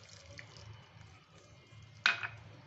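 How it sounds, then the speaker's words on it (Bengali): A cup of water splashes into a pot while kanika bhog, a sweet rice offering, is being prepared. The room is quiet with a low hum until one short, close pour lands near the end. "এই আরেক কাপ জল দিয়ে দিলাম"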